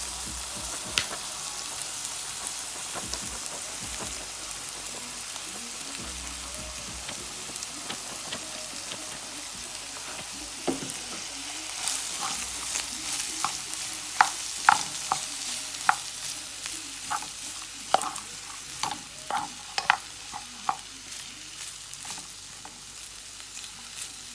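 Cooked rice stirred and fried in a pan for Jamaican fried rice gives a continuous crackling sizzle with many sharp scraping and clicking stirs that grow busier and louder toward the end, with no one speaking.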